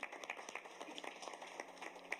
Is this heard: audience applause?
yes